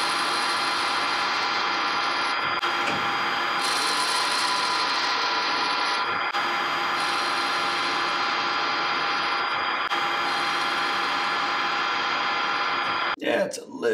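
Steady machining noise from a rotary tool cutting a thread in a gyroscope through shaft, first light 20 thou pass, continuous and close with a brief clatter near the end.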